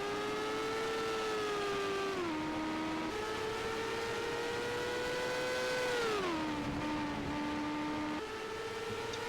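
A race car's engine drones steadily at a distance on a Melbourne Grand Prix circuit, its pitch rising and falling as the driver eases off and back onto the throttle through a corner exit, with no talk over it.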